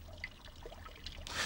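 Water trickling from a guttering carrying sand and pebbles into a tank, a faint, close dribble with small splashy droplets and a brief louder gush at the end.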